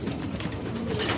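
Racing pigeons arrive home from a Santa Fe training release, giving soft low cooing and fluttering close by against a busy, noisy background.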